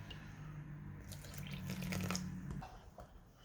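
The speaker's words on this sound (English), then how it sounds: "so we're gonna add a little bit more water" Water is poured into funnel cake batter at close range, a soft trickling splash with bubbly, liquid texture over a low background hum, with no talking.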